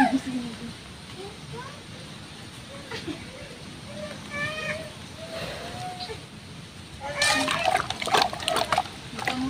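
Water splashes and trickles as it is poured onto a freshly repotted kalachuchi plant, a soft wet splatter building louder toward the end, with a person talking over it.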